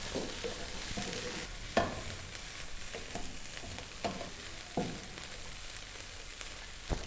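Capsicum frying with chicken in a pan on low heat, a quiet steady sizzle broken by a few soft stirring scrapes, no speech.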